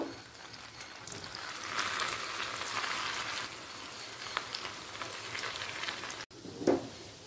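Steady hiss and crackle of chhana (cottage cheese) fritters frying in hot oil over a high gas flame, continuous and moderately loud, with a brief louder pop near the end.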